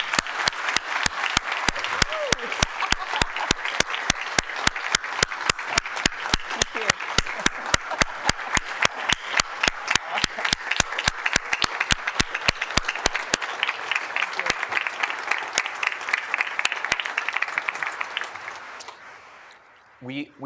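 An employee forum audience applauds a speaker with sustained, crisp clapping, individual claps standing out close by, holding steady before fading out at the end.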